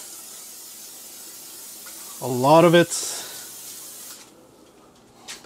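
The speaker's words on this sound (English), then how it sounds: "I like using spray, olive oil spray" A short hiss of olive oil spray into a wok lasting under a second, near and fairly loud, followed by faint sizzling and a brief spoken remark.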